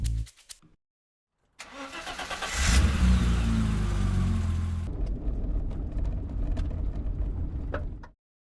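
A car engine cranks and catches after a few short clicks and a pause, revs up loudly, then settles into a steady drone as the car pulls away close by, with no talk.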